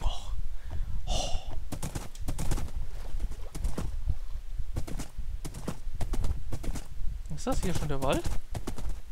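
Galloping hoofbeats patter continuously from a horse in Minecraft, the rhythm steady and close, with voices chatting over it throughout.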